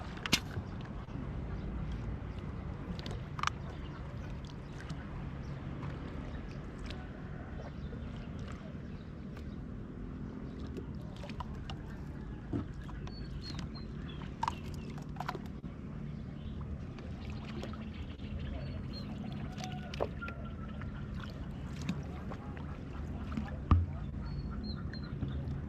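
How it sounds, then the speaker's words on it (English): Ducks quack intermittently in short, sharp calls along a river in Hoi An, heard from a traditional bamboo boat over a steady low wash of water and paddling, with occasional nearby knocks. "Ducks."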